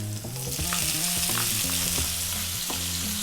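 Garlic, ginger and onion fry in oil over high heat, giving a loud, close, unbroken sizzle with a faint rhythmic pulse of stirring underneath.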